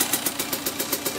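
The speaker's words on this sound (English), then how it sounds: "She's idling perfect." A small two-stroke motorcycle engine idles steadily nearby, its rapid, even putter pulsing without a break.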